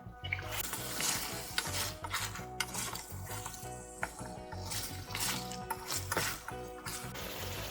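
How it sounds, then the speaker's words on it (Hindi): Chicken pieces fry and are stirred in nihari masala in a pot, with a soft continuous sizzle and repeated scraping clinks of a spoon against the pan, close and steady. "मैं चिकन को मसाले में मज़ीद 5 to 10 मिनट्स और भून रही हूँ"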